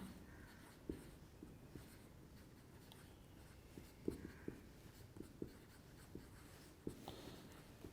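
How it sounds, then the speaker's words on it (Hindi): Marker or chalk writing on a board during a chemistry lecture, faint soft taps and short scratchy strokes in an irregular rhythm against a quiet room hum, no talk. "मैं इसे लिख भी देता हूं"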